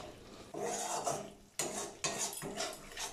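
A spatula scrapes and stirs a thick yogurt-based eggplant curry in a pan over low heat, a few distinct scraping strokes with metallic clinks, close and moderately loud, with no talking.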